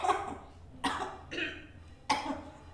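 A man gives three loud, sharp coughs spaced about a second apart, each a harsh burst fading quickly into quiet.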